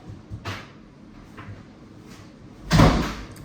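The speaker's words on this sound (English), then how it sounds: "Shut my door." An indoor door shuts with a single solid thud near the end, preceded by a few faint knocks and rustles in a quiet room.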